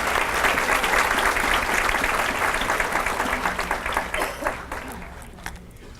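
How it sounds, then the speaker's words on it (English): A banquet audience applauds a community learning center's jazz band: dense, loud clapping from a large crowd that holds steady, then thins and fades over the last couple of seconds. "Give them all a round of applause."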